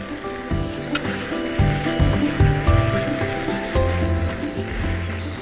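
Bean sprouts and spring onions frying with noodles for a Korean beef dish cooked outdoors by the water make a continuous loud sizzle, with tonal, music-like sounds running underneath.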